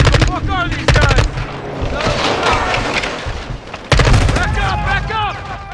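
Battle gunfire rattles through Call of Duty: Modern Warfare 2 (2022), with rapid machine-gun bursts and heavy booming shots. The fire is loud and close, coming in sharp clusters, and shouting voices mix in with the shooting.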